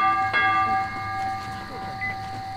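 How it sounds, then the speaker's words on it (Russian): A bell rings in the video game Metro Exodus: one clear metallic strike with long sustained tones that fade slowly over a low background hum, followed by a faint second chime. "Зачем колокол стучать?"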